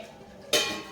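A pot lid is set down on a cooking pot of Andhra-style pappu, one sharp metallic clank that rings briefly and fades, with no voices.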